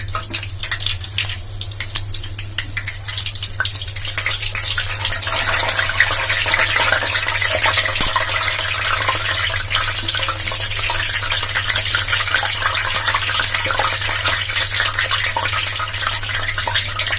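Zalabia dough drops into hot oil and fries with a continuous bubbling sizzle that builds over the first few seconds, then stays loud and dense throughout, with no talking.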